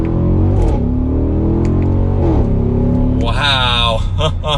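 A 2021 Audi SQ7 4.0T's exhaust roars loudly as the SUV accelerates hard in first gear in dynamic mode. The engine note climbs steadily, then jumps to a higher-pitched rising pull near the end.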